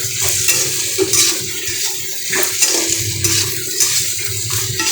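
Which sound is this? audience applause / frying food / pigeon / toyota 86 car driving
frying food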